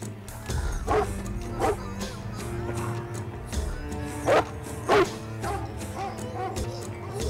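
A dog barks in a scene from the film Leo, with a handful of sharp yips and barks rising over a continuous music score and background sounds.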